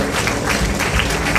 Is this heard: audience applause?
yes